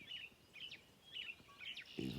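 Birds in the woods give short repeated chirps and whistles, spaced about every half second, faint and distant against quiet background ambience.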